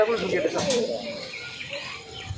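Pigeons coo in a loft, their soft rolling calls close by and partly under a voice speaking.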